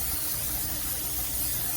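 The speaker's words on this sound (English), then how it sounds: "we want to take some spray grease and just spray a little bit of that in here" Cooking spray hisses steadily into a cast iron skillet for about two seconds, a close, even rush of broadband noise with no talking.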